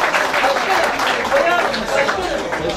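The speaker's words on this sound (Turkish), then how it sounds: "Oya hanımefendiye şöyle kuvvetli bir alkışlamanızı rica ediyorum." Audience clapping for rally driver Oya Eren at the 2012 Kartepe autocross, a dense, steady patter of applause mixed with crowd chatter.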